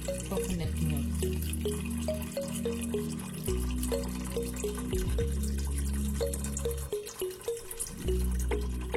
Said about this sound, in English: So just pour in like half a can of this coconut milk.